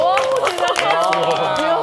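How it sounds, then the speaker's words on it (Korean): Studio audience applause and excited cheering on a Korean morning TV talk show, dense and steady for about two seconds, with voices calling out over the clapping. "박수 한번 주시죠."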